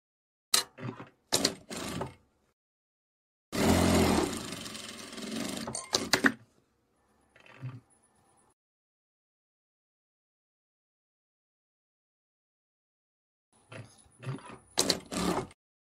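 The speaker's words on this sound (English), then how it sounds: "I'm sewing. I'm joining our pieces together like this." A sewing machine stitches patchwork baby quilt pieces together in short runs of mechanical whirring, separated by long silent pauses, with faint clicks and handling noises between bursts.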